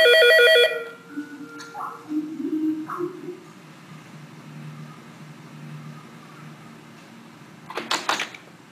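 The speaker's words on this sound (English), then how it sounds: "It will ring on both PC and table phone, so we can directly pick up the table phone." A desk phone on a Skype VoIP gateway setup rings with an incoming call, a bright electronic trill at the start and another burst near the end, with soft room noise and movement between.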